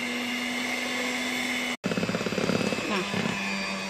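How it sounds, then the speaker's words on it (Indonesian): Electric hand mixer whirring on its lowest speed through cake batter for a steamed taro sponge cake, a steady hum that cuts out briefly and restarts as someone talks over it. "lalu kita mixer pakai uh, speed paling rendah ya"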